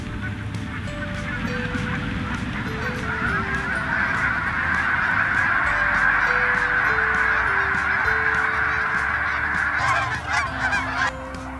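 A large flock of geese honking continuously and loudly, a dense overlapping chorus of calls that holds steady throughout, with a low rumble of wind underneath.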